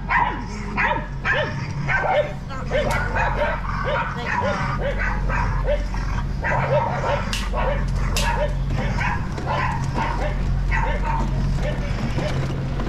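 Dogs at Zoo Tampa during a night event, barking, yipping and whimpering in a busy, overlapping stream, fairly close, with people talking throughout.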